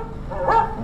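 A dog named Rover barks once in an animatronic Carousel of Progress show, a short mid-pitched woof rising out of steady background room noise.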